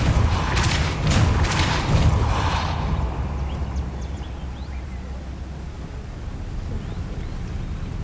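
A Depulso force spell from the Hogwarts Legacy video game, a few heavy whooshing bursts with a low thud in the first seconds, then fading into quiet ambient rumble.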